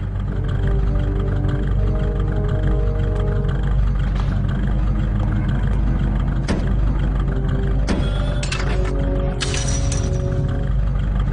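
A truck drives through the game world in The Godfather, its engine running as a steady loud rumble the whole way, with a few sharp bangs and crashes breaking through near the end.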